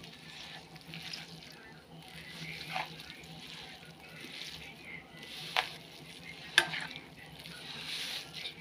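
Vegetables are mixed by hand with mustard oil and salt, giving soft, wet squelching and rustling at close range, with a couple of sharp clicks and no speech.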